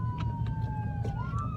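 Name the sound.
ambulance siren passing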